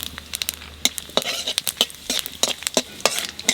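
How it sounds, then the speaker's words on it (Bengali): Cumin seeds and bay leaves sizzle in hot oil, with sharp crackling pops and spatters scattered over a soft steady hiss, close and moderately loud. "তেলের উপর দিয়ে দেবো জিরে আর তেজপাতা"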